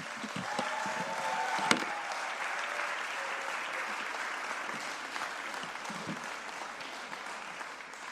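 Church audience applauds young people after they finish preaching, a sustained, fairly distant clapping that carries on evenly with a sharp knock partway through.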